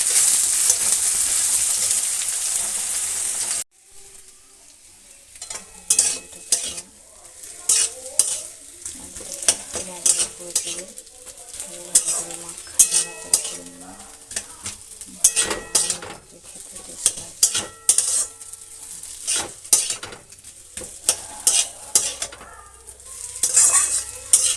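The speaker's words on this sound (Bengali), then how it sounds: "দেবো পেঁয়াজ কুচি, লাল লাল করে ভেজে নেব।" Chopped onions frying in a pan for a Bengali pickle recipe: a steady sizzle opens the clip, then gives way to repeated clinks and scrapes of a spatula stirring against the metal, close and fairly loud.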